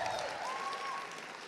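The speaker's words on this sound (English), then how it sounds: "Let's give Freddie a round of applause." An audience at a London roadshow event applauds a young attendee named Freddie, a brief burst of dense, even clapping that fills the room and fades slightly toward the end.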